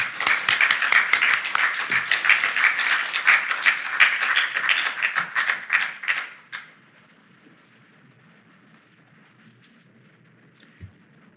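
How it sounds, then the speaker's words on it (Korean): Dense applause from a church congregation at an early-morning prayer service, loud and sustained for about six seconds before cutting off to quiet room tone. "큰 박수로 한번 격려해 주시기를"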